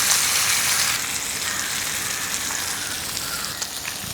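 Masala-coated fish sizzles in hot coconut oil with curry leaves, a close, continuous crackling fry that holds steady for several seconds with no talking.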